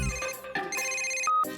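A cartoon telephone rings in a comedy scene, giving a bright electronic ringtone with short repeated trilling bursts and a sustained tone near the end, loud and alone with no talking.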